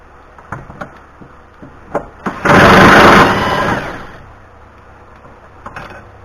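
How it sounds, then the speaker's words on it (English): A handheld impact wrench drives a bolt while replacing a trailing arm on a 2018 Chevy Malibu, one loud buzzing burst of about a second and a half amid scattered clicks and knocks of work nearby. "You can use a impact."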